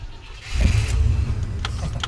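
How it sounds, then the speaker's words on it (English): A truck engine cranks and catches with a rising low rumble, then settles into a steady close idle, with faint light clicks over the top. "you now know how to start it."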